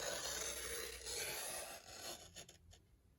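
A paper trimmer's scoring blade runs along cardstock with a steady, close rubbing scrape that fades out, followed by a few short, faint scratchy strokes.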